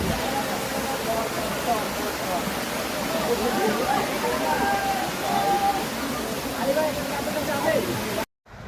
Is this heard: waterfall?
yes